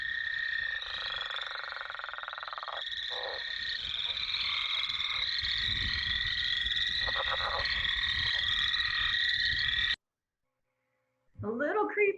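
Leopard frog calls in a wetland, a long run of rapid snoring croaks and chuckling clucks repeating for about ten seconds, loud and close, followed by silence and a brief burst of other noise.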